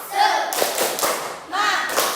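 A school class performs the 'tepuk semangat' clap chant, voices calling out in rhythm while hands clap in short bursts of sharp, loud claps in a classroom.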